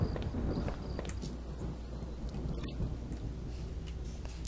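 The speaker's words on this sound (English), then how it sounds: "Sounded like it was going to start raining again." Low rumble of thunder in a video game, a steady broad roar swelling and lingering at moderate volume, with a brief crackle partway through, hinting that rain is about to begin.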